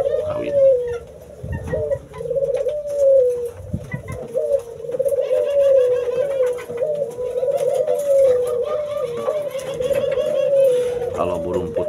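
Doves (burung puter) in a small breeding cage coo continuously in a low, rolling, repeated call, close and prominent, with people talking quietly underneath.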